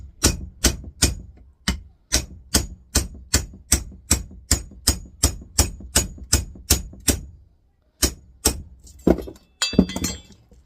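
A small hammer strikes small copper AC adapter transformers in a fast, even rhythm, about twenty sharp hits close by, then a short pause and a few final clanking strikes.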